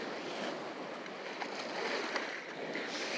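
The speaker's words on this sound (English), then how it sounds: "We are going through some big splashes." Sailboat in the Bristol Channel pushes through waves, a continuous rushing wash of water along the hull with a few splashes rising out of the steady noise, fairly quiet and without talk.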